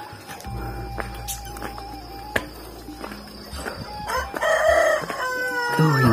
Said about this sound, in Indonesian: kokok ayam dan suara kongkorongok saja sahabat